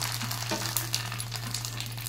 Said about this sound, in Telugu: ఇదిగోండి ఇవి ఫ్రై చేద్దాం. ఏంటివి నెయ్యిలో వడియాలు.